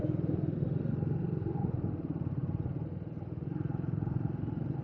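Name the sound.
Triumph Speed 400 motorcycle engine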